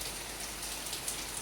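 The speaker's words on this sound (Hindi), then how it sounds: "देखिए, ऐसे बारिश हो रही है, बहुत तेज़ बारिश हो रही है" Heavy rain pours steadily onto surfaces outdoors in a village setting, a dense, even hiss of drops with no voices.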